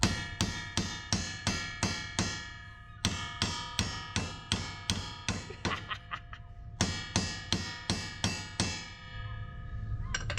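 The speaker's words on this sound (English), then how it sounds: "The whole goal of smacking the zincs is to get them to seat properly" Hammer striking zinc anodes onto an aluminum boat hull, in rapid bursts of about six sharp metallic clanging blows each, ringing with bright tones, close and loud, with short pauses between bursts and no talk.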